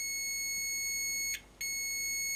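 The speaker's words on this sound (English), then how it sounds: "You'll be able to hear the beep." A continuous high-pitched electronic tone sounds from test probes touched to the circuit board of a Zenith Data Systems 286 computer being repaired for battery damage, briefly cutting out mid-clip before resuming steadily.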